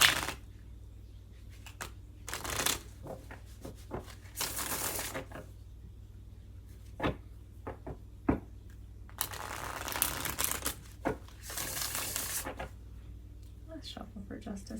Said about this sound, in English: Let's shuffle for justice, please.